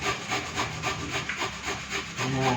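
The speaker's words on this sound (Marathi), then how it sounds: "खिसतोय आता बटाटा." A potato is rubbed against a hand grater in steady, rhythmic rasping strokes, close and continuous with no talking.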